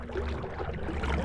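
An electric outboard motor pushes an inflatable boat along a river at third speed, giving a steady low hum mixed with water rush and light wind, continuous and close with no talking.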